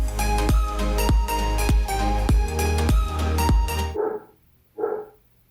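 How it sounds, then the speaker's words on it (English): Dogs bark loudly in a steady run of sharp, repeated barks, then two more isolated barks follow after a short pause, close by. "They're barking at the wind. They're literally barking at the wind."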